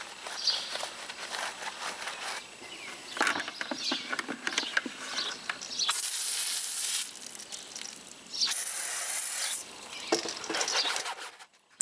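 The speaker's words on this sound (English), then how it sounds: "The last brush I'm using is my stiff bristle tire brush to work the rubber on these tires." A stiff bristle tire brush scrubs the rubber of a car tire, giving a wet, fizzy scrubbing with two louder sustained bursts of hissing bristle strokes among softer patter.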